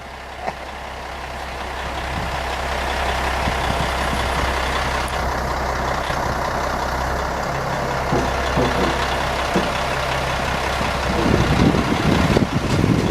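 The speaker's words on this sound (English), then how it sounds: "And there's a cement coming down for the footings. There's this big cement truck over here." A big cement truck pours concrete for building footings at an outdoor site, its engine and drum rumbling steadily throughout, with a crowd of helpers nearby and some scraping toward the end.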